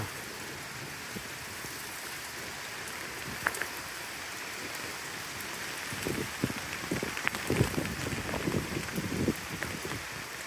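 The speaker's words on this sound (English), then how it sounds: "with heavy rains, all pots have fallen on the roof." Heavy rain pours during a hailstorm in Rajajinagar, Bengaluru, a dense continuous roar with scattered louder impacts and splashes that grow busier toward the end.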